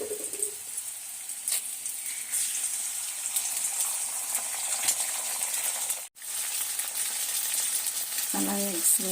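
Eggs hit a pan of frying salted ivy gourd pieces, giving a steady, close sizzle throughout, broken by one brief dropout and a few light clinks near the end, with no talking.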